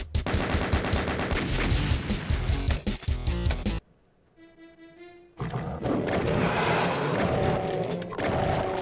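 Rapid bursts of gunfire from Doom played on ultra violence, loud and dense for several seconds, a brief near-silent gap with faint tones, then heavy shooting resumes.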